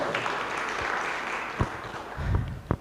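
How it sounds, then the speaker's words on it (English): Audience applause at a public participation meeting in Nairobi as directors take their seats, moderate clapping spread across the room with a few sharper claps standing out, heard alone. "Let's give them a round of applause as they sit down."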